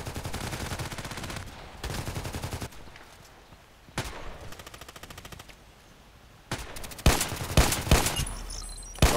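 Rapid gunfire bursts from a TT pistol in the shooter game Contract Wars, loud repeated cracking shots in several clusters with brief pauses between, ending in a heavier flurry of shots.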